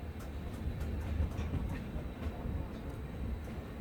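A train rumbles along the railway line toward Rangiya Junction near Saraighat Bridge, a continuous low rolling drone with faint rhythmic clicks of wheels over rail joints.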